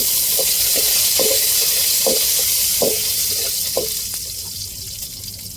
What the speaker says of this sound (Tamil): இப்போ நம்ம ரவைக்கு தேவையான அளவு தண்ணீர் சேர்த்துக்கிறோம்